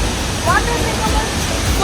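Dunhinda waterfall in Badulla, Sri Lanka, heard as a steady broadband roar of falling water, continuous and fairly loud, with faint voices and brief cries over the top.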